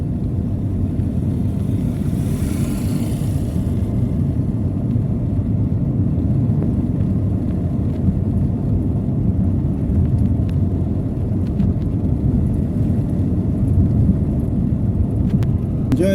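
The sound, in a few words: car driving on a road near Lake Baringo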